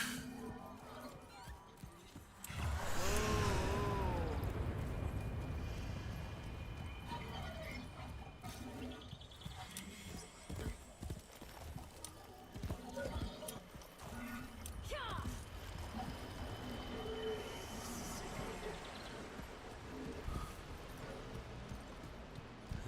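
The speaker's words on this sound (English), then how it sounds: "So, horse riding, brand new" Horse hooves clip-clop at a steady gallop while riding in the PC video game Warframe, heard fairly loud in a busy game mix with music and effects throughout.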